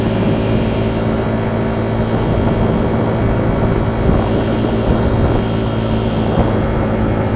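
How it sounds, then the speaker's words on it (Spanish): Four-wheeled quad bike engine running steadily on a road in San Mateo, Huehuetenango, a continuous loud motor drone with no talk. "Vamos acá en las motocicletas de cuatro ruedas. Miren cómo va esta motocicleta."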